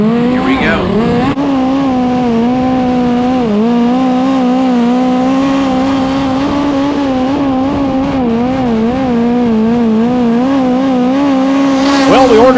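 A USAC midget race car screams through a qualifying lap at a San Jose track, its engine holding a loud, sustained high-revving drone with slight pitch dips through the corners, close and continuous.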